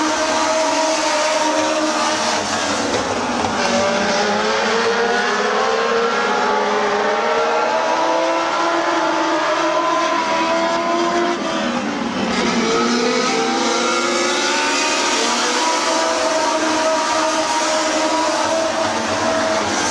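Stock cars racing at Midvale Speedway during the 2004 fall classic, several engines roaring loudly and continuously with pitch sweeping up and down as cars run bumper to bumper through the turns, no talk.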